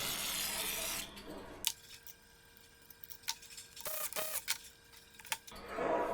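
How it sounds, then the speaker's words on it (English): An aerosol can hisses in a sustained burst onto the engine of an abandoned homemade skidder, then stops, leaving faint clicks and small knocks before a second short hiss. "Maybe everything just wants a little more spray."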